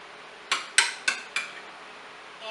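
A utensil stirring sauce and leftover meatloaf juices together in an Instant Pot for Italian meatloaf: four sharp metallic scrapes and clinks in an even rhythm, close and fairly loud, with no talk.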